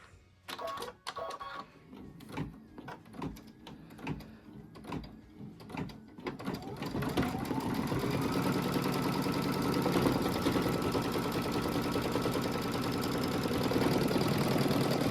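An embroidery machine stitches a tack-down line on fabric for a quilt block. Irregular mechanical clicks and thumps come first, then a loud, steady, rapid needle hum that runs on close and unbroken to the end.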